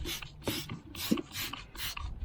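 Aluminum cleaner being scrubbed into a corroded, brake-dust-caked wheel on a Chevy G20 van, heard as close rhythmic rasping strokes, about five bursts in steady back-and-forth rhythm with no talking.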